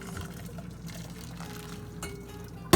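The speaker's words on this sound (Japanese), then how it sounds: "まんべんなくお湯をかけます。" Hot water streams steadily over a bowl to sterilize it, with a soft continuous splashing wash and a sudden louder clunk right at the end.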